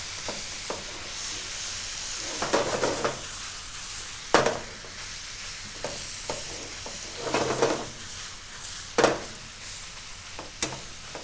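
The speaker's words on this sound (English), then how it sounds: "Our mince is just about cooked." Ground beef mince sizzles steadily in a frying pan, close and continuous, with occasional louder scrapes and clatters of a utensil stirring the browning meat.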